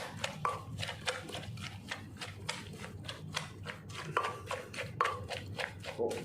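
Thai papaya salad (som tam) pounded in a mortar with a pestle, a rapid, steady series of dull knocks close by, keeping an even rhythm throughout with faint background sounds.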